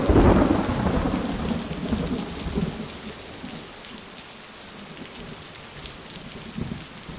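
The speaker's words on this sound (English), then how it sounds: "I think it's the rain at this point." Steady rain falls with a low rumble of thunder, loudest at the start and fading into an even patter of drops on a surface for the rest of the stretch.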